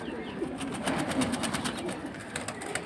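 Pigeons at a pigeon market or loft cooing, low soft coos repeating under a busy, noisy background.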